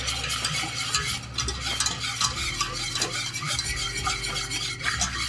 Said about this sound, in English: And we're going to stir it